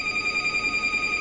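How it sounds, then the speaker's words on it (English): A phone ringing in a home kitchen, a steady electronic trill with a fast pulsing warble, moderately loud and alone. "Phone's ringing."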